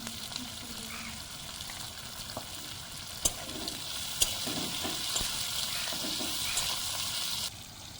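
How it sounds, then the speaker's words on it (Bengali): Onions salted and fried in a pan until reddish for a fish-head kachu shak recipe, a steady close sizzle with occasional scraping clicks as they are stirred, no voices. "পেঁয়াজটা লাল লাল করে ভেজে নিয়েছি এই দেখুন হালকা করে।"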